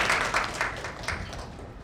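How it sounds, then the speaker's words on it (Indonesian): An audience applauds at a national symposium, dense clapping from a large crowd filling the hall at a steady, full volume and fading slightly toward the end. "Tepuk tangan dulu untuk Mbak Sari"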